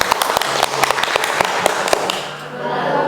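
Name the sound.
audience clapping hands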